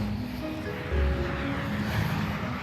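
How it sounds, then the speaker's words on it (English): An airliner sits on the ground at Cardiff airport, its engines giving a steady, fairly loud broadband roar with low hum throughout, no voices over it. "With the plane now on the ground at Cardiff, both Maria and Nicola have their work cut out to get everything done in time."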